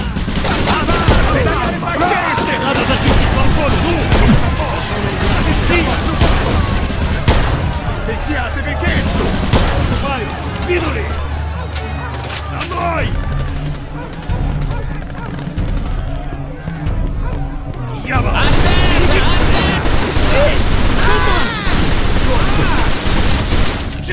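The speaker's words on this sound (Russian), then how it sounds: "Ладно, Скалета, стреляй" Gunfire from the Mafia 2 video game, rapid bursts of loud shots crackling continuously, mixed with shouted voices in Italian and Russian, a brief lull in the middle and then a renewed heavy volley.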